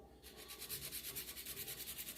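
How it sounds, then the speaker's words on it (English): A nail file scrapes acrylic nails into a stiletto shape in quick, rhythmic back-and-forth rasping strokes, soft and close with no talking. "Make sure you're filing straight."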